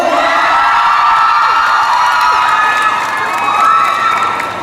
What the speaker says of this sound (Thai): ขอให้ทุกคนที่นี่ส่งเสียงกรี๊ดให้กับน้องๆที่มาประกวดมิสทีนปีนี้ด้วยครับผม